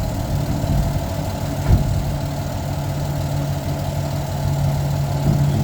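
A garbage truck's engine idles at a steady low rumble that holds even throughout, with a faint clunk or two in the background and no voices.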